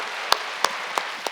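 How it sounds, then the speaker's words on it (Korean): A church congregation applauds during a Wednesday worship service, a steady wash of clapping with a few sharper claps standing out at even intervals. "하나님께 박수 칩시다."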